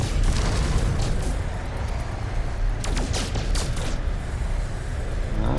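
Rocket fire and explosions during a ship fight in No Man's Sky, a continuous loud barrage of booms and crackling blasts with layered rumble throughout.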